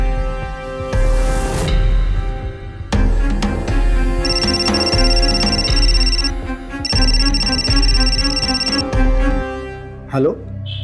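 Ringing tone from a phone while a call is being placed, heard in two long stretches of steady electronic tone over background music, with voices talking around it.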